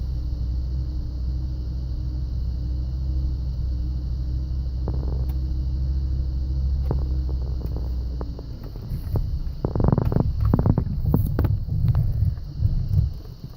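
A car engine idles at a steady held throttle, a constant low rumble with a faint high whine for several seconds, then it sputters and chokes out into scattered knocks and rustling.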